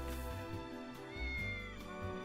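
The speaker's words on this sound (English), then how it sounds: "There's a cat!" A cat meows in the video game Triangle Strategy, a short mewing call layered over soft, steady game music.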